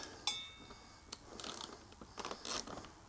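A ratchet wrench backing out T27 Torx bolts, giving faint, close clicking bursts and a few sharp metallic taps spread unevenly over a few seconds in a quiet space, with no speech.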